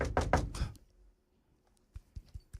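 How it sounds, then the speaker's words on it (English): Knocking on wood comes after a few loud bursts at the start, then quiet, then a quick series of sharp, dull knocks near the end. "You got to knock on wood."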